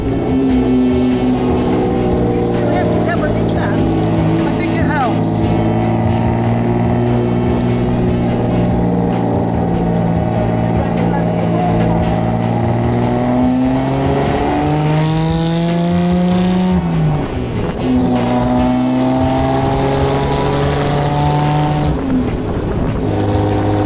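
A Jaguar XK120 roadster engine revs loud and close as the car is driven, its pitch climbing through each gear and dropping at the shifts, with no talk over it.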